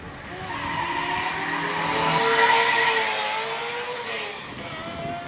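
Classic cars racing on a track at the Cape Town Speed Classic, including a little MG and a Ferrari Enzo: a loud engine drone sweeps past and swells at the midpoint, then fades, with a tyre-squeal whine on top.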